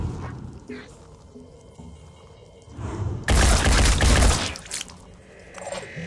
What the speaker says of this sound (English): Get up there and take the shot, Takeshi.